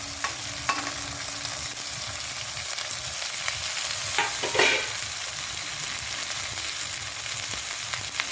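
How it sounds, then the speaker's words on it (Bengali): Chicken curry masala with chopped and ground tomato fries in a pan, a steady, close crackling sizzle broken by occasional stirring sounds. "এগুলোকে ভেজে নিতে হবে।"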